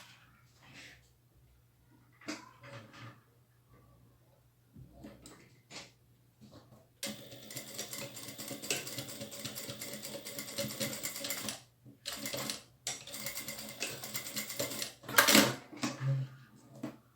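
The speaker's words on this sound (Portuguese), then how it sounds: "vou costurar aqui na ponta do zíper para fazer o acabamento." A sewing machine stitches bias binding onto the end of a zipper on a small satin-and-tulle pouch, running in short bursts then a longer stretch, with pauses and handling clicks between.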